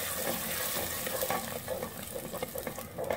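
Hot tempering sizzling and frying as it is stirred into mustard greens saag in a pan, a dense steady crackle with stirring clatter, close and fairly loud.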